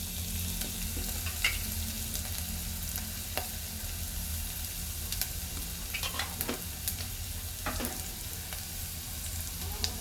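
Garlic and turmeric fry in a pan with a constant close sizzle and hiss, broken by occasional scraping stir strokes; no one talks.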